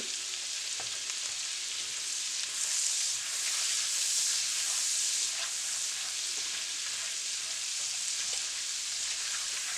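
Homemade garlic butter melts and sizzles in a hot pan over regular heat, giving a steady, close hiss with small crackles and no talking.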